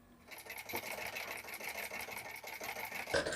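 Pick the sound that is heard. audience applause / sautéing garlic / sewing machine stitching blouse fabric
sewing machine stitching blouse fabric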